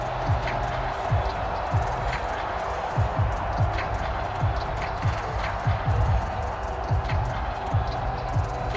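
A broad, steady roar from the crowd at an NFL game between the Washington Commanders and the Baltimore Ravens, a continuous wash of noise with scattered thumps beneath it.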